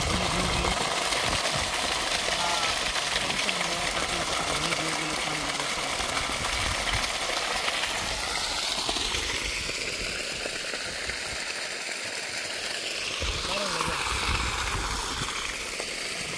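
A large water tanker's engine runs steadily while filling a pond for wildlife, a continuous broadband drone close by with a rushing, rain-like wash of water throughout, no speech.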